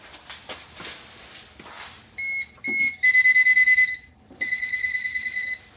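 A circuit tester gives short beeps, then a rapid string of pulsing high-pitched beeps followed by a steady tone, loud and close after some quiet rustling.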